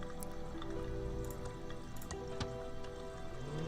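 Microwave humming in the point-and-click game Thimbleweed Park while a glass of water heats inside, a steady tonal drone with small drips and squishy liquid sounds over a continuous background bed.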